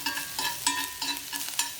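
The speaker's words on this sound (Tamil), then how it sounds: "ஒரு பேன்ல 2 டீஸ்பூன் எண்ணெய் சேர்த்திருக்கேன்." Oil sizzles in a pan while a utensil stirs and scrapes in quick repeated strokes, close up with no talking; finely chopped ginger and garlic are sautéing in two teaspoons of oil.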